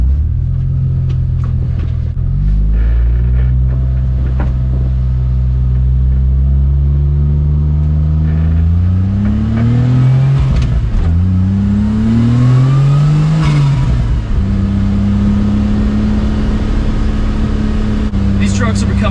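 A 1994 Suzuki Carry turbo kei pickup truck engine revs and drives, loud and close, pitch climbing through gear shifts with a steady rumbling drone.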